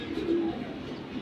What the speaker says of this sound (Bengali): তো এই আমার ভিডিওতে আজকে এই 3 জোড়া কবুতরই থাকবে